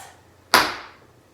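A single sharp stomp of a tap shoe slaps the floor, a crisp close impact that rings briefly and fades, in an otherwise quiet room.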